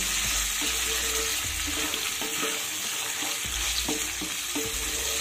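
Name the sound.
soaked chickpeas and potatoes being fried and stirred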